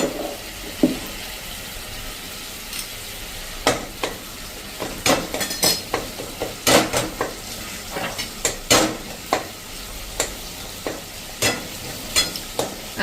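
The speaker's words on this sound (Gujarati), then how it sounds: "આ રીતે આપણે એકદમ સરસ ચલાવીને તેલ છૂટું પડે ને ત્યાં સુધી કૂક કરવાની છે" Ridge gourd and Kathiyawadi garlic paste stir-fry in oil with a constant sizzle and repeated sharp spatula scrapes and clanks against the pan in an irregular rhythm, with no talking.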